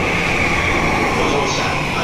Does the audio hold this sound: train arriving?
yes